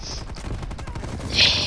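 Rapid bursts of gunfire from a weapon in Call of Duty: Cold War, loud and close, the trigger spammed in quick succession with a brief pause before a louder burst at the end.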